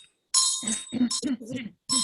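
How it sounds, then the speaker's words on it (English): A small hand bell struck in a Buddhist temple practice session gives bright ringing strokes that alternate with brief chanted or spoken voice sounds, near and clear. "hold the bell like that with your left hand, and then this one, and then like that. Beat like that."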